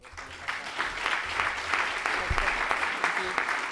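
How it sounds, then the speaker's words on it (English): Audience at a panel discussion on austerity applauding the speakers, a sustained wash of clapping at moderate volume with a voice heard over it. "we can all give us, the speakers, a big round of applause"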